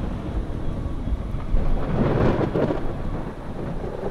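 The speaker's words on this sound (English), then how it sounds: "It's just rain, mate." Steady rain hisses across the scene with a low rumble swelling in the middle, no voices present.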